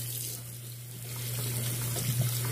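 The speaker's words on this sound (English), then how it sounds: "We are going to rinse it." A purse is rinsed under a running tap, a steady close splash of water with a low electrical hum beneath it.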